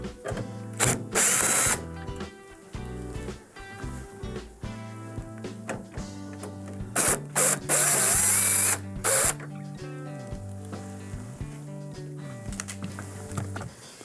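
A power screwdriver spins out number 2 Phillips screws from the grill of a Whirlpool microwave, giving two short loud whirring bursts and then two more, with clicking and clattering handling noises between them.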